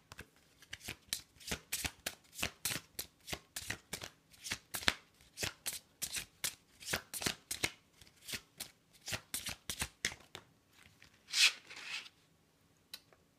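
Angel oracle cards being shuffled in a steady run of crisp, papery riffles and slaps, close and fairly soft, then a brief louder rustle before the shuffling stops.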